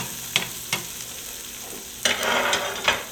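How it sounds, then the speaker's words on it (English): Ginger, green onion and garlic sauté in a hot pan, sizzling steadily up close, with several sharp clicks and scrapes of stirring and a louder burst of frying near the end, and no talk. "And we put our mix in here of ginger, a green onion, and garlic. And we get it sauteing, move it around."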